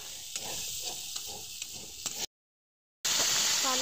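Spinach for palak paneer fries in a pan while being stirred, a steady sizzle broken by scraping stir strokes, then a brief silent gap before the sizzling returns louder.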